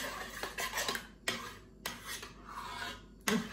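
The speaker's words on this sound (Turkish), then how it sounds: "Şöyle son bir kez güzel bir kaymağı alıp karıştırayım." A spoon scrapes and stirs through a magnolia pudding mixture with clotted cream, making quiet, close rubbing and clinking strokes against the bowl in an uneven rhythm, with no voices.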